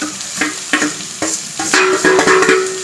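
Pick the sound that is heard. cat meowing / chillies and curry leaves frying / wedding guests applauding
chillies and curry leaves frying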